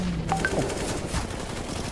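Gunfire crackles from a Counter-Strike match, a few short bursts of rifle shots over steady in-game ambience, moderately loud and without commentary during the clip.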